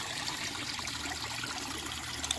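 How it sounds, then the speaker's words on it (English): Two small waterfalls in a backyard koi pond in Murfreesboro, Tennessee, make a steady, soft trickle and splash of falling water, low in level and continuous throughout. "It's got two waterfalls right now."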